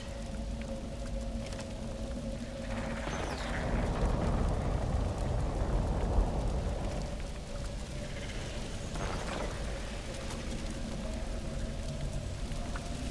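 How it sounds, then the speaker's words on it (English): Rain falling in a video game, a soft, steady hiss and patter that swells slightly partway through, then settles back to a quiet even wash. No one speaks. "Oh, it's raining."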